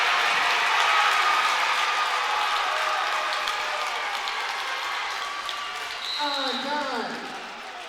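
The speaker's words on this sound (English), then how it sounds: "So you heard the roar of the crowd." Roaring crowd at a high school varsity wrestling match, loud at first and slowly easing, with a voice breaking through near the end.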